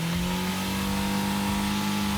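A boat car doing a burnout on new tires, its engine held at a loud, steady high rev with a sustained droning tone, close and continuous.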